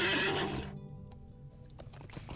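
A horse in the video game LOTRO gives a loud, close whinny, a bright shrill call that trails off into quieter hoof and ambient sounds.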